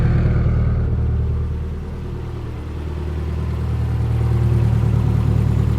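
A modified 2004 Subaru STI with aftermarket cams rumbles in a deep, steady idle, its loudness dipping briefly before it swells back, close and alone without voices.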